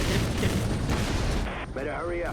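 Heavy gunfire rages in the video game Prototype 2, a dense, loud, continuous barrage of shots and blasts, with a voice briefly heard near the end.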